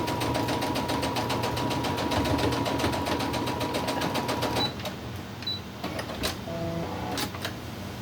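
A sewing machine stitching a crazy crumb quilt block, running steadily with a rapid rhythmic clatter for about four and a half seconds, then stopping, followed by quieter handling clicks and rustles.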